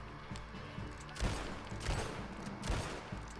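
Carbine repeater and other gunfire crack in a western shootout in Red Dead Redemption, several sharp shots spaced about a second apart over a low rumbling background.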